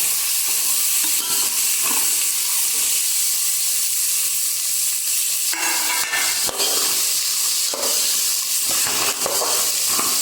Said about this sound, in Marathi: तेलामध्ये भाज्या छान त्याची शिजवून घ्यायच्या